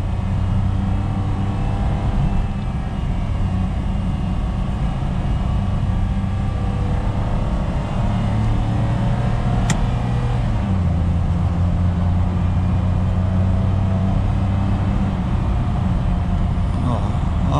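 A 2020 Toyota Wigo pulls in second gear from inside the cabin, its steady engine drone and road noise holding throughout, with a slight drop in pitch partway through.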